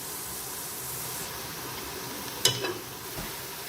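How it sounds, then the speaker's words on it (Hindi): Onions fry in oil in a pan with a soft, steady sizzle, joined by a brief clink of utensils partway through; no one talks. "अब हम इसको फ्राई करेंगे प्याज को।"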